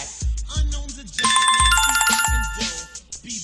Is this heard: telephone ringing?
yes